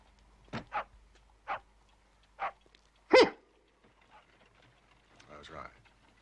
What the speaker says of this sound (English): A curly-haired spaniel.